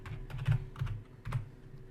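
Computer keyboard typing, a handful of close soft key taps in an uneven rhythm over a faint steady hum, no voices.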